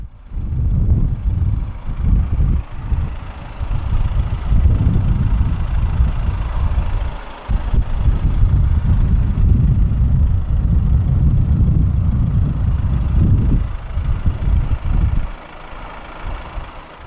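A 2015 Audi A3 Cabriolet 2.0 TDI 150 S line diesel engine idles with a steady low rumble, broken by a few short dips and shifts in tone, no voices.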